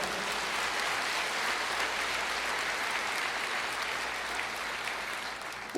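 A church congregation applauds during a sermon, a steady broad wash of clapping that holds level for several seconds without voices.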